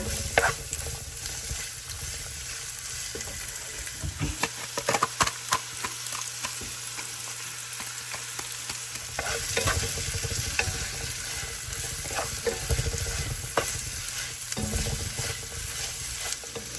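Sliced onion is stirred and sautéed with salt in a pan, bringing a continuous soft sizzle broken by repeated scraping strokes of a spoon against the metal, moderately close with no talking.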